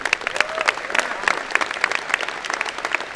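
A convocation audience at a college engineering ceremony bursts into loud, crisp applause, many hands clapping at a busy, uneven rhythm close by with a few voices mixed in.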